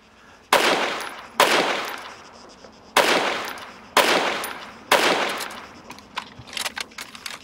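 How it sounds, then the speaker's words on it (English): Five heavy, booming shots from a bullpup anti-tank rifle in the game Arma 3, fired alone at roughly one-second intervals, each with a sharp crack followed by a long echoing tail. "It's bullpup, so, okay, yeah, this is an anti-tank gun"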